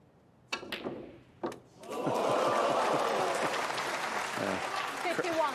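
A snooker crowd at the Xian Grand Prix semi-final bursts into sustained applause after a few sharp knocks, the clapping loud and dense through to the end, with a voice briefly audible beneath it.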